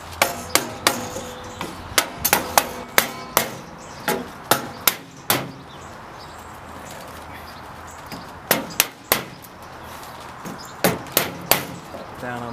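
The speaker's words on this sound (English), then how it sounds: "now we just tap the collar down to snug it up on the roof" A hammer, or a rubber mallet over a piece of wood, taps the metal flue collar down onto the roof of a Fontana wood-fired oven, giving sharp, close clanking knocks in quick clusters with short pauses between runs.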